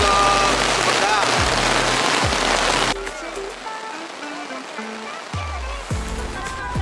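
Rain falls at a family campsite near a waterfall (curug), first as a loud, dense hiss for about three seconds, then thinning to a softer patter while voices and other tones come through.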